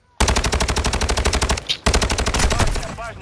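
Rapid automatic gunfire in the video game Call of Duty: Modern Warfare II, a loud, steady burst of evenly spaced shots that breaks off briefly, then a second sustained burst; no speech over it.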